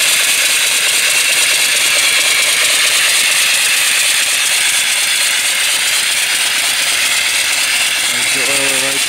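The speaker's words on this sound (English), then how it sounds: "antique reproduction engine running off of a 20-inch boiler that I built." Antique reproduction steam engine running off a 20-inch boiler, a loud, steady mechanical chatter and rattle with hissing that continues unbroken throughout, close by.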